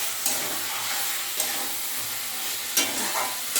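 Potatoes being stirred and fried in spiced masala alongside meat, with a steady close sizzle and a few louder scraping stirs, no talking.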